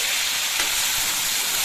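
Potatoes dropped into hot tempering oil with curry leaves for a dry potato bhaji give a loud, steady broadband sizzle and hiss that stays dense and close for the whole short stretch.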